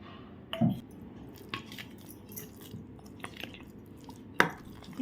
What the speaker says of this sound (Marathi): दही दही घातलं आहे ते छान मी आता ढवळून घेते